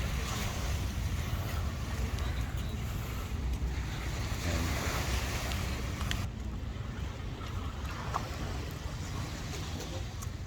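Sea waves wash steadily along a shoreline beside a breakwater where people go fishing, a continuous broad surf roar mixed with gusty wind buffeting the microphone, with no talk over it.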